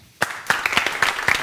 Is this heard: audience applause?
yes